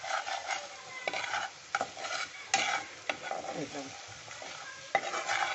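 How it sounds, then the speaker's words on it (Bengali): Chicken korma base with added water being stirred in a pan, a steady scraping and clattering of the spoon with bursts of stirring noise and faint sizzle; a brief word is spoken. "জল দিয়ে নেড়ে নিচ্ছি"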